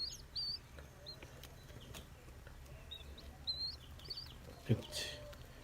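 Tiny red jungle fowl and pheasant chicks peep in short, high, scattered chirps, fairly faint against a low background hum, with a brief knock near the end.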